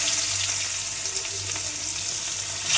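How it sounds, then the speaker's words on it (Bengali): Dried red chillies, bay leaves and cumin frying in hot oil, a steady close crackling sizzle that runs evenly throughout. "এবার দিয়ে দেবো তেজপাতা, এবার দিয়ে দেবো জিরে। এগুলো একটু ভাজা হতে থাকবে।"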